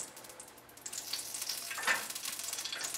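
Clarified butter sizzling in a heated pan while cooking pav bhaji, a steady crackling hiss that swells louder toward the end, with no talking.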